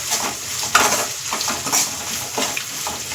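Onions frying in a pan are stirred with a utensil, giving soft sizzling under a few scraping strokes and light clinks against the pan, close and fairly quiet, with no voices.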